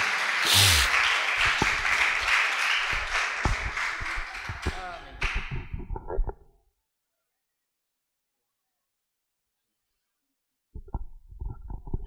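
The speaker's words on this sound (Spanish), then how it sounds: "un caluroso aplauso también para él" A crowd claps loudly and continuously for several seconds, then the applause fades into silence before a voice begins speaking.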